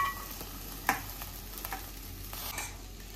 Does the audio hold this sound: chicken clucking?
no